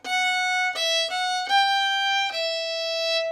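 A solo fiddle bows a blue note pitched slightly sharp of G, a run of clear sustained tones with short breaks between bow strokes, close and alone without any talk.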